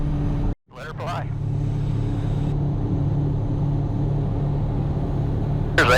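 A Kodiak 100 Series II aircraft on its takeoff roll, a steady loud engine and propeller drone heard from inside the cabin, briefly cut by a short dropout and a couple of clicks, with no speech.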